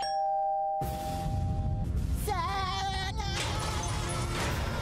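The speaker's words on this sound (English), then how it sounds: "I'm ready to ring Sandy's doorbell." A doorbell rings once inside a SpongeBob SquarePants cartoon episode, a clear two-tone chime standing alone at the start, followed by loud cartoon soundtrack and group chatter.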